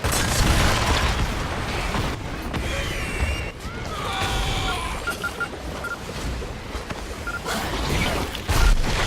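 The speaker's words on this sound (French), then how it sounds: "Grenade lancée." A grenade goes off in the video game Evolve, a loud boom and crash amid dense, continuous battle noise with electronic effects and game voice callouts.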